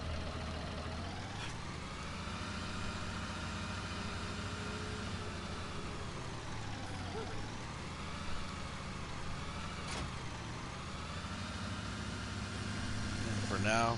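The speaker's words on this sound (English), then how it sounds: "So we're gonna get her all brought down with this tractor over." Tractor engine idling in a farming video game on PS4, a steady low drone with harmonic hum that rises and dips gently throughout, with a brief click near the end.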